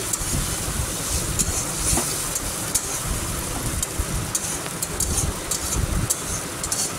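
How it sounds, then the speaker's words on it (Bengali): Tomato, onion and ginger-garlic paste sautéing in a pan: a steady, close sizzle with a constant crackly hiss and occasional small pops and stirring scrapes, with no talk. "আর এর মধ্যে আবার দিয়ে দিলাম আমি আদা রসুনের পেস্ট, দিয়ে ভালো করে কষিয়ে নেব।"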